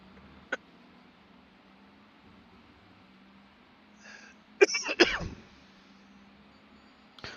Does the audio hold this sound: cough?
yes